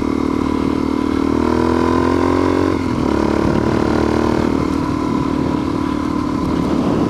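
A vehicle engine pulls a trailer up the Boreas Pass mountain road in a loud, steady drone. It shifts pitch briefly partway through, then settles back into a constant hum, with no voices over it.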